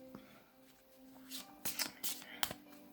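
Fairy oracle cards are shuffled by hand close by, soft riffling swishes in a few quick bursts, with faint background hum and no talk over them.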